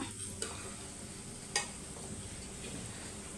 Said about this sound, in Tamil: இது நல்லா நான் மிக்ஸ் பண்ணிக்கிறேன் கருணக்கிழங்க திருப்பி போட்டுடலாம்